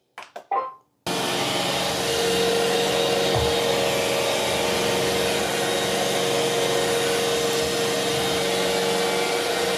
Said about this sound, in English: So today I want to see the effectiveness of both vacuums on hardwood floor versus protein powder, chips, and also the same thing on the carpet.